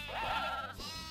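A sheep bleats in the video game Croc: Legend of the Gobbos, one wavering electronic-sounding bleat that rises and falls across about a second, loud and alone with no talk over it.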